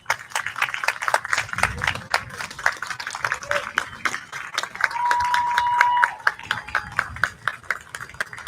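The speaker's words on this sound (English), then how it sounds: "how about we stand and applaud Jack and Lynn" A stadium crowd at a baseball game claps steadily in a dense, quick patter of many hands, with an announcer's amplified voice and a sustained tone mixed in partway through.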